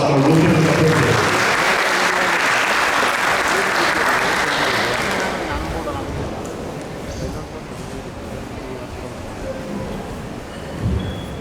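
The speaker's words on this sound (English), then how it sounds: "Please join me in welcoming with a big round of applause for Rubhanuga Prabhu." An audience at a Sunday program in a Hindu temple hall bursts into loud, full applause to welcome a lecturer, dense clapping that gradually fades to a softer patter and scattered claps over about eleven seconds.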